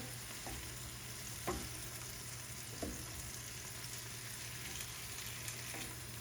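Beef with its juices stirred into a pan of simmering stroganoff base, giving a steady low sizzle with a few soft scraping stirs of the spoon, moderately faint and without talk.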